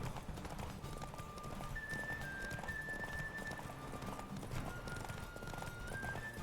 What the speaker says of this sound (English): Two people charging past on white horses